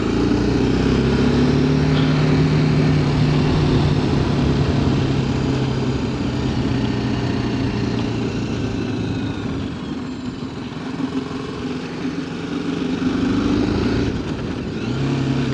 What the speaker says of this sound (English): I don't know how much of the motorcycle you can hear.